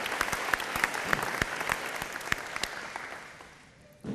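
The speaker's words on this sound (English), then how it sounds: "Please give them a round of applause" A school recognition ceremony audience claps steadily in a dense, even burst of applause that gradually fades toward the end.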